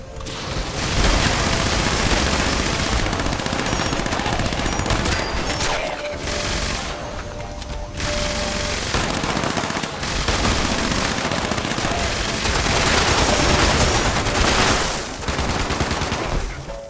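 Rapid automatic gunfire during an attack on the stills in Fallout 76, loud clattering bursts and volleys with short pauses between, continuing throughout.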